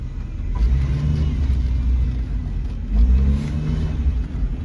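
A Honda Civic with a stalling problem idles and revs in short bursts, a close, loud mid-pitched engine rumble that swells and settles twice, with no talk over it.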